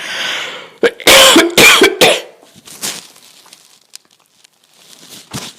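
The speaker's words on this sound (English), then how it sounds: "I'm going to cough a minute," A few harsh coughs burst out close by, followed by quieter throat noises and rustling.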